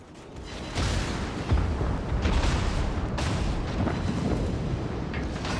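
A naval gun salvo booms in the warship battle video game World of Warships: Legends. Heavy, rumbling blasts overlap into a sustained loud roar with several distinct thuds.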